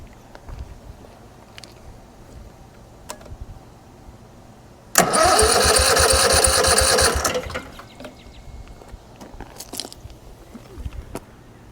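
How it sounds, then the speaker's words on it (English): A small engine is cranked over briefly to test fuel pump flow, with the fuel line running into a jar. A loud burst of rapid mechanical churning lasts about two seconds mid-clip, surrounded by quiet workshop ambience and faint clicks. "So I'm going to bump the engine over, just a couple bumps."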